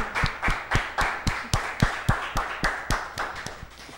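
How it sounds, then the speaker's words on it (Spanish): Clapping to welcome a carranga music group on stage: a slow, even, rhythmic clap of roughly two claps per second, close and distinct, fading slightly toward the end without talk. "Vamos a recibirlos con un fuerte aplauso"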